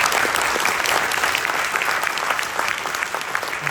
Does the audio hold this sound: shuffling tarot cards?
no